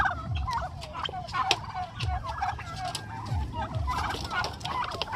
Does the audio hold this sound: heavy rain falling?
no